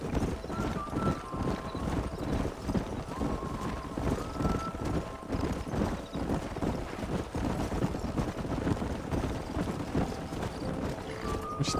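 Steady clip-clop of a horse galloping in Red Dead Redemption, a continuous rhythmic hoofbeat layered with wind and ambient game noise, fairly loud and unbroken throughout.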